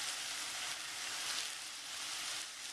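Onions fry in a pan on the stove, cooking until translucent, giving a steady, dense sizzle that holds at an even level throughout with no voices.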